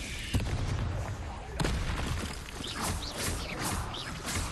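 Confringo, a fiery blast spell, cast during combat in Hogwarts Legacy on Switch 2, bursting out in a few sharp, punchy booms over a dense wash of battle effects and background noise.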